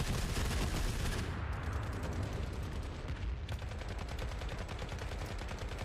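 Rapid gunfire from the video game Forever Winter, including sniper shots, crackles loudly and continuously throughout with dense repeated bursts and no talking.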